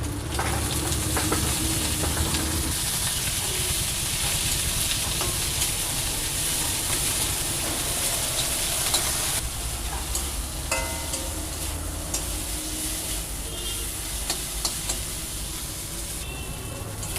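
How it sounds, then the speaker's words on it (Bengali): Shrimp and coriander leaves fry in a pan, giving a loud, continuous sizzle with intermittent stirring and scraping, close and steady with no voices. "আমার চিংড়ি মাছ আর ধনে পাতা ভাজা হয়ে গেছে,"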